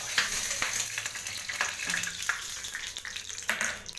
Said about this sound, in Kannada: ಫ್ರೆಂಡ್ಸ್, ನಾನು ಪುಳಿಯೋಗರೆಗೆ ಎಣ್ಣೆ ಕಾಯಕ್ಕಿಟ್ಟಿದ್ದೀನಿ.